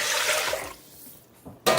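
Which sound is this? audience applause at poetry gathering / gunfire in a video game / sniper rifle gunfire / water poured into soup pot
water poured into soup pot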